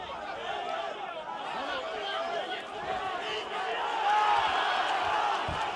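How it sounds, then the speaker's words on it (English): A boxing match crowd at the Charr vs Ustinov fight sends up a steady roar of cheering and chatter that swells slightly near the end, heard at a distance with a commentator's voice talking over it. "See the crowd cheering there"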